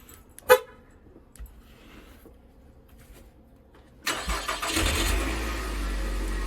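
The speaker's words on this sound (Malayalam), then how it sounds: "വണ്ടി സ്റ്റാർട്ടാക്കിയിട്ടു" A car starts during a snowstorm in Ontario: a sharp click and a quiet pause, then the engine catches with a sudden roar and settles into a loud, steady idle, close by.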